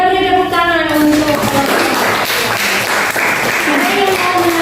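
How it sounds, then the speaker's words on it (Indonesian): Students in a classroom applaud a group after its presentation, a loud, continuous patter of clapping with voices talking over it throughout. "Kita beri tepuk tangan untuk"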